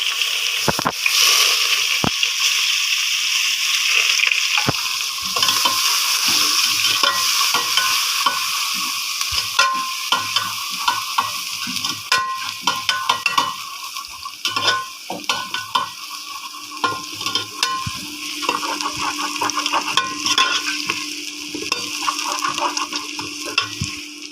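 Cumin with ginger and garlic paste sizzles steadily in hot oil for a kadhi pakora dish, with a continuous close crackle and frequent scraping, stirring clicks throughout.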